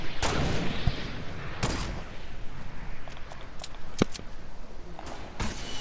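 Gunfire in the Fortnite video game, several sharp shots spread irregularly over a rumbling battle background, some louder bursts near the start and later.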